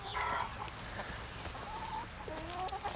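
Inquisitive hens crowd close around someone working in a tree nursery bay in winter, giving a run of soft, scattered clucks over a quiet background.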